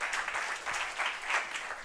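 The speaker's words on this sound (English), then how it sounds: "a big round of applause for them." A conference audience at an emergency medicine gathering in Ghana applauds a morning panel, with steady, moderately loud clapping that swells a little in waves throughout.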